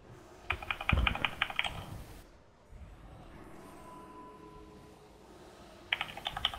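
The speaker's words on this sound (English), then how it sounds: "Fucking loud keyboard." Loud keyboard typing during a World of Warcraft heroic Gorefiend raid: two dense bursts of rapid key clicks, one near the start and another at the end, close and prominent, with a quieter lull between.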